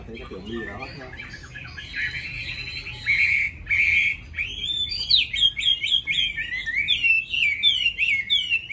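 A caged hwamei songbird sings a loud, close run of varied whistles and rapid chirping phrases that grows busier and more complex toward the end, with a voice faintly present underneath.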